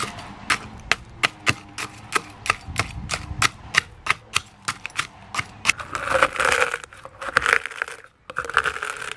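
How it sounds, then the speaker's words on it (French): Eggshells being crushed for garden use, a series of sharp crunching cracks in an irregular rhythm, close and distinct, followed by denser grinding and rustling as the fragments are broken into smaller pieces. "Je casse les œufs."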